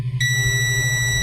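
Multimeter continuity beep while probing a shorted capacitor on a phone board at a repair bench: a steady, loud electronic tone that starts abruptly and holds continuously, close up with no talking.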